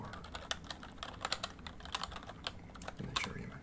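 Fingers type on a colorful mechanical keyboard, giving a sharp clickety-clack with a metallic edge. The keystrokes come close and quick in irregular bursts, with nothing else heard.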